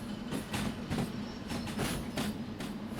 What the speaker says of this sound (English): As soon as this train gets onto the right siding